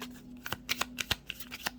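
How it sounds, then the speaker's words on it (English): Tarot cards being riffled and shuffled by hand, a quick run of crisp papery flicks and taps, close and fairly quiet with no talk over it. "So let's get one more shuffle."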